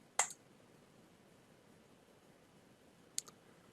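Two crisp mouse clicks submitting an online application form, each a quick double tick, separated by about three seconds of near silence, close and quiet.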